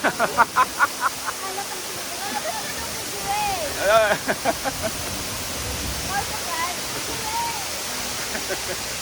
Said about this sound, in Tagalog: Welcome to Fujairah, the Waterfalls Khorfakan.